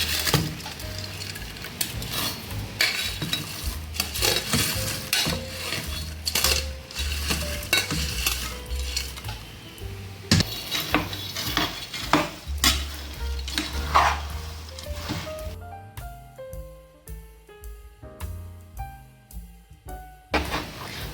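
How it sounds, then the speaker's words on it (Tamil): A spoon stirs fried boondi into hot sugar syrup in a pan, making close, continuous scraping and gentle sizzling with occasional metallic clinks against the pan, ending in a few lighter taps. "நாம் இப்போ சக்கரை பாகில் நம்ம போட்டு வச்ச பூந்தியை எடுத்து மிக்ஸ் பண்ணலாங்க"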